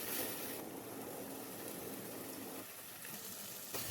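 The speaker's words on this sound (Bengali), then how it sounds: "মশলা ধোয়া জলও আমি দিয়ে দেব।" Spice-rinsing water poured into a curry pan while making egg curry, heard as a steady gushing, splashing pour up close that runs for about three and a half seconds before cutting off.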